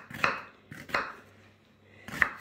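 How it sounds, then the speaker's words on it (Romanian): Onion and leek chopped into large cubes with a knife on a board, three close, crisp chops spaced unevenly within a couple of seconds. "le tăiem cuburi mari"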